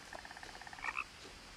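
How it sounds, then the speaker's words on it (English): Frogs croak in the video game What Remains of Edith Finch, a rapid, rhythmic trill of small croaks followed by a couple of louder, brighter calls, faint and close, without speech. "There are scary frogs."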